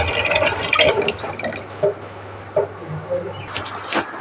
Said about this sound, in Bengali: আমি সোয়াবিনটা এবারে ঠান্ডা জল দিয়ে ভালো করে ধুয়ে নেব